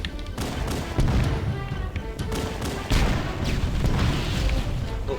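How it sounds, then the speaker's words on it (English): Chain of explosions in Halo 1: a dense, continuous barrage of booming blasts and crackling gunfire, with heavy thumps hitting near 1 and 3 seconds, loud and close throughout. "Oh, chain explosion."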